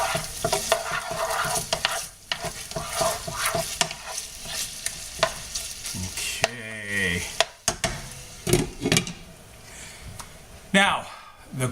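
Chorizo sausage sizzling in a frying pan while being stirred, with scraping and clattering of the spoon against the pan in irregular bursts, close and fairly loud, with a person talking in between.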